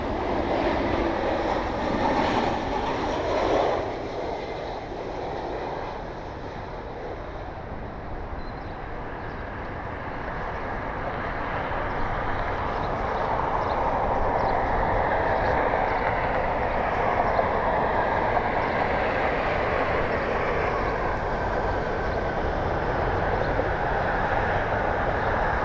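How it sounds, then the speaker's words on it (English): An American Airlines airliner in One World livery, inbound from Charlotte, lands at Cleveland, producing a steady, broad jet roar that swells and holds for the whole stretch, heard from across the airfield. "American Airlines 1267, the One World livery inbound from Charlotte."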